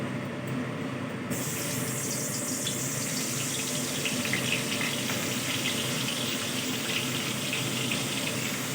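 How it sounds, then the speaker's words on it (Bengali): Lote fish fry in hot oil in a wok on a gas stove: a dense, steady sizzle starts abruptly after a quiet first second and keeps on evenly, loud and close, with no talking. "এবার আমি মাছগুলো একটু ভেজে নেবো"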